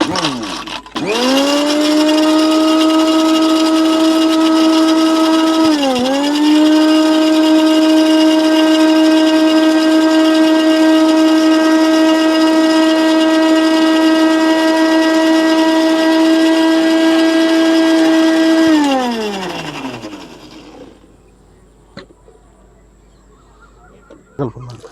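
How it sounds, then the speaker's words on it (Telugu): A kitchen mixer grinder blends an egg with water, cooking oil and neem oil into liquid fertilizer, a loud, close motor whine running steadily for about twenty seconds with one brief dip before winding down to quiet. "మిక్సీ పట్టుకున్నాను."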